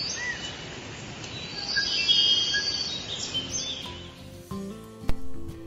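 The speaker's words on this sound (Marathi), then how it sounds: "पक्ष्यांचा किलबिलाट" Birds chirp faintly in a rural Konkan village morning near Chiplun, with scattered high tweets over a soft outdoor hiss, followed by a louder knock or thump near the end.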